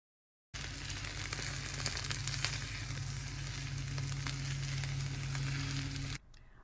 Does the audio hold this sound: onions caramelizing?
yes